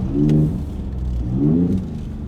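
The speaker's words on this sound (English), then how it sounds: "I like to throw it into a manual shift once in a while. And if you're playing around, you can start having some downshifts like this." Ford Raptor fitted with an MBRP 3-inch dual rear exit cat-back exhaust, downshifting in manual mode: two close engine blips rise and fall in a deep, throaty rumble, loud and near, with no talking.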